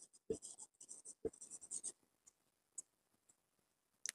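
Writing during a chemistry lecture on organic compound nomenclature, quick close scratchy pen strokes in busy bursts for the first two seconds, then sparser isolated ticks and strokes, fairly quiet overall.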